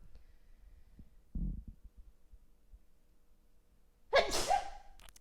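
A single loud sneeze bursts out near the end after a quiet stretch, preceded by a short muffled thump; no talking.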